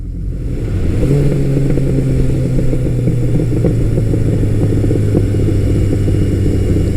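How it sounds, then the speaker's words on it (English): Vintage Suzuki GS1100G motorcycle running steadily with a loud, continuous low exhaust rumble and a faint crackle as the throttle closes, close by and alone throughout. "I even love the crackle of that exhaust when I'm off the throttle."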